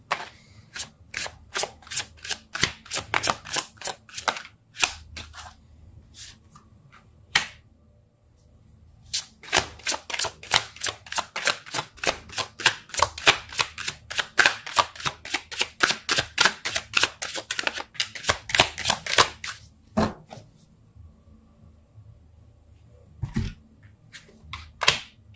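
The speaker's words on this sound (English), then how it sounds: "I just can't shuffle." A deck of tarot cards is shuffled over and over in bursts of quick, crisp riffling clicks, with a brief pause early on and another near the end. The sound is close and fairly loud, and there is no talk.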